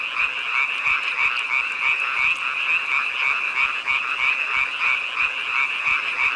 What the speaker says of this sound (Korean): 청개구리다.